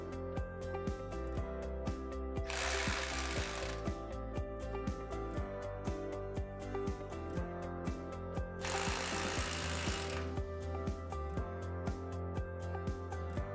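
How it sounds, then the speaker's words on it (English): Power drill boring pilot holes into a floor to fix a door dam threshold seal, two sustained bursts of whirring drilling against a steady background with rhythmic clicking, close and fairly loud. "pre-drill holes into the floor using your door dam as a guide."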